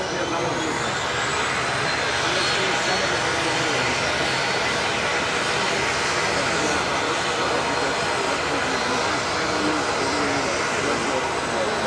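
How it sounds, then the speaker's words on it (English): A FedEx ATR 72 freighter's auxiliary power unit starts up at an air show, a broad steady roar with a faint rising whine, continuous and fairly close for the whole stretch. "ATR's APU starting, I think."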